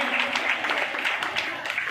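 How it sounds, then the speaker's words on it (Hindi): A crowd at a political gathering of women in Mahendragarh applauds to welcome a guest, with continuous dense clapping close by and a voice talking over it. "इनका तालियां बजा करके स्वागत कीजिए, हौसला बढ़ाइए"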